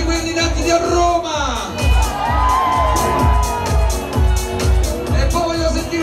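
Nightclub crowd at a Rome disco event shouting and cheering in rhythmic bursts over a pounding beat, loud and close, with a host's amplified voice above.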